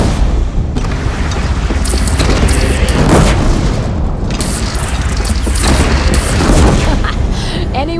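A cannon fires in Horizon Zero Dawn Remastered amid a loud, dense battle soundscape, with heavy booms rolling through continuous rumble and clatter and shouting voices mixed in.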